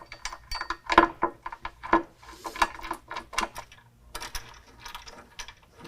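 A ratchet clicks in short bursts while a nerf bar bracket is loosely fastened on a 2019 truck, with quick metallic ratcheting strokes and pauses, close and fairly loud.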